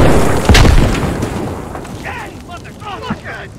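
An explosion in the military shooter game Squad, a single loud boom with a heavy low thump near the start, followed by a fading rumble while players talk over it.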